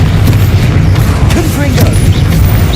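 Bombarda spell blasts in the Hogwarts Legacy video game, heard as loud, dense booming and rumbling that runs throughout a chaotic battle, with shouted voices mixed in.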